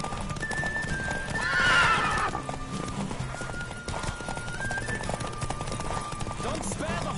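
A horse gallops in a race in The Witcher 3, its rapid hoofbeats clip-clopping under music, with a loud whinny near the start and faint speech mixed in.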